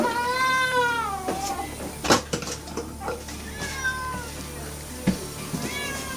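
A cat meows repeatedly at close range, with several drawn-out rising and falling cries separated by short gaps, over a noisy indoor background with a few sharp knocks.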